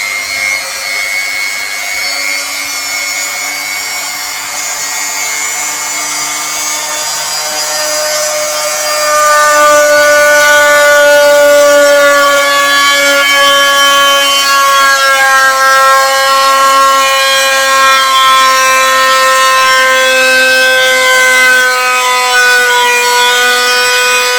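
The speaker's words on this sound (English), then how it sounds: "that's stones, so I don't think my drill's going to go through" A power drill whines steadily with a strained, grinding tone, its pitch rising partway through as it bites into stone, continuous and close.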